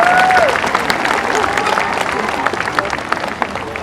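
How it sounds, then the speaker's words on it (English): An audience applauds the orca whales Kalia and Shouka at SeaWorld San Diego, dense sustained clapping from a crowd over a sharp whistle at the start, with some voices mixed in. "let's give them all a round of applause because they're doing amazing"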